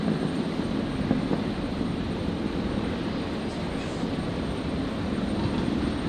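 An airplane departing Brisbane International Airport on New Year's Eve gives a steady, broad engine roar that holds at even loudness through the whole stretch, with no voices over it.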